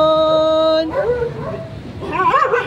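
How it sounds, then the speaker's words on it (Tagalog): A big dog barks and howls on a road in Davao City, a loud sustained harmonic howl giving way to rough barks and yelps, with people talking nearby. "So, malaking aso."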